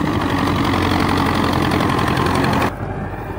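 A tractor engine runs in a highland wheat field, a loud, close, steady mechanical drone with a rhythmic knock that drops abruptly in level near the end.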